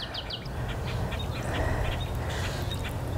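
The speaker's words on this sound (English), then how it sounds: "hear the birds in my yard" Ducks quack and call repeatedly in a backyard wildlife habitat, short nasal notes over a steady background of splashing water from a nearby fountain.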